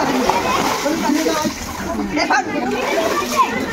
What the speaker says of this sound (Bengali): এই যে এখন আমি নেমে পড়েছি আর এখন আমি ডুব দিলাম